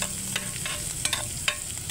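Minced garlic sautéing in melted margarine in a pan, giving a steady close sizzle with a few sharp crackles and light stirring clicks, no talking.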